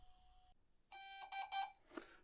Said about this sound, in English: There, aircraft beep.